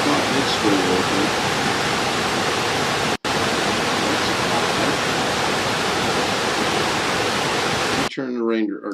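Recorded river or rushing-water sound playing loudly and steadily as a dense hiss, briefly cut once, then stopping abruptly near the end, followed by someone speaking.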